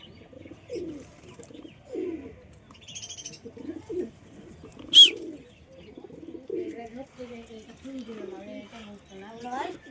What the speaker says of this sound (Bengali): তো এই কবুতরটি এক্ষুনি ধরলাম বন্ধুরা